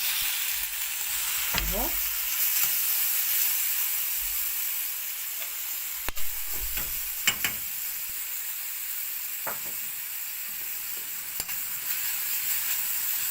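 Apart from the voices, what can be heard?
onions frying with meat in a pan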